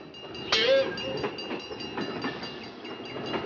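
A train rolls past a railway crossing with a short horn blast near the start, followed by rhythmic clattering of wheels over the rails at moderate distance.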